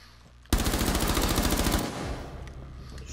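Video game gunfire rips out as a loud rapid burst of automatic shots lasting over a second, then trails off into a fading echo, with no talking.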